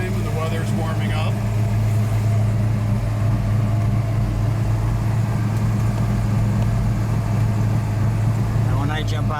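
A 1969 Dodge Charger Daytona with a 426 Hemi cruising, heard from inside as a steady, loud low engine rumble with road noise, continuous throughout and broken by brief bursts of other sound near the start and end.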